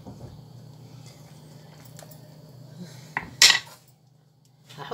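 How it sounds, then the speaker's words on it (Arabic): A spoon stirs salt, pepper and cumin into water in a pot: a quiet background hum, then one brief, sharp metallic scrape and clink against the pot. "هروح واخدة هقلب بقى كده كله مع بعضه قبل ما احط القرنبيط بتاعنا"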